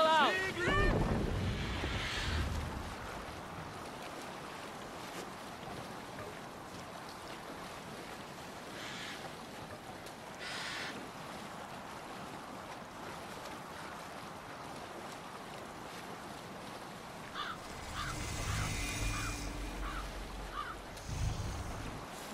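A Viking longship under sail at sea in Assassin's Creed Valhalla, with steady wind and wave wash running throughout and a louder surge of water near the end, as a voice speaks at times over it.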